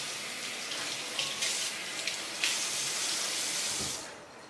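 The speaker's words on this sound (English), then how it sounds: "And turn your water on and rinse it off." Tap water runs steadily into a kitchen sink while a whole chicken is rinsed: a continuous hissing splash with small splatters that fades near the end, with no voices.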